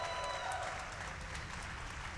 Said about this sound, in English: Can we get a cheer for Blaster?